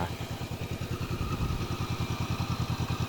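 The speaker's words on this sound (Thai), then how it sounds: "เสียงท่อ อย่างแน่นครับ เพราะว่ามันเป็นท่อเดิมครับไม่เคยผ่า" A 2017 Honda CBR500R motorcycle with its original stock exhaust idles close by, a steady, even pulsing throb with a dense, muffled tone and no talking.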